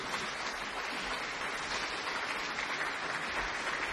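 Audience at an Armistice ceremony applauding a guest, a steady, dense clatter of many hands clapping that fills the whole stretch at even loudness, with no talk over it.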